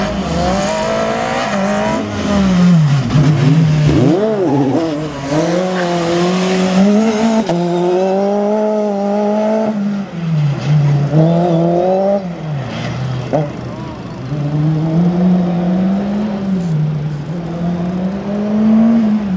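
A race car at a slalom event in Le Neubourg accelerates hard, its engine note climbing and dropping through repeated gear changes and revving, loud and close throughout, with faint tire squeal.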